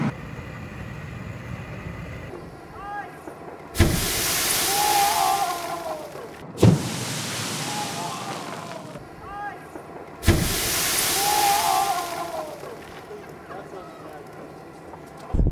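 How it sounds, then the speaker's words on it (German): Three loud whooshing bursts from a burning-fat explosion, water hitting burning oil, erupt one after another, each a roaring fireball blast that sustains for a couple of seconds before dying off, with hissing between. "Da entsteht schon ein riesiger Feuerball"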